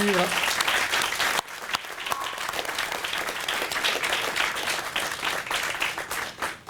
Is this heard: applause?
yes